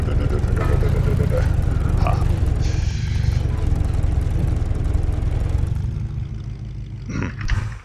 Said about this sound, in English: The sound of the not full upgraded engine is much better than the normal.